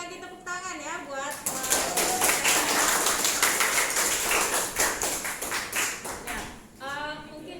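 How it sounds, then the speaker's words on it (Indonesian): Students at a school class project presentation receive a burst of audience clapping, a dense crowd of hands applauding steadily for several seconds with a few voices mixed in. "Sekali lagi tepuk tangan ya buat"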